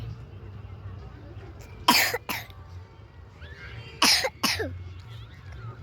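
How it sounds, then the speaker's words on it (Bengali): Someone nearby coughs in two bursts of two or three harsh coughs each, separated by a couple of seconds, over a quiet outdoor background. "কাশি করছে"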